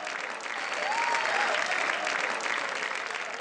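An audience at a televised Indian stage show applauds steadily for a contestant from Delhi, a dense, even wash of clapping that holds at the same level throughout.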